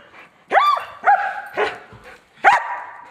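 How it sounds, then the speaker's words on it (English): A dog barks three times in sharp, loud bursts spaced about a second apart, with brief quiet gaps between each bark. "Oh, you quit barking."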